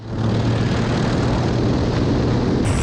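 A jet-powered Waco biplane flies past at an air show, its steady loud engine roar holding constant throughout without a break.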